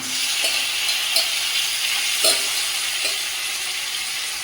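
Meat sizzling and frying in a pan with Kashmiri chili powder, a steady close hiss with occasional crackles and brief stirring scrapes, no voices.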